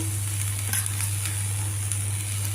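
Cluster bean pieces frying in a pan with roasted coconut, a steady close sizzle with faint scrapes of stirring over a constant low hum, no voices.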